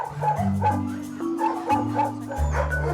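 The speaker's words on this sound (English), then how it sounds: "now the dogs will have to eat separately" Several dogs bark, yip and whimper at feeding time, loud and close, with overlapping excited calls in short bursts throughout.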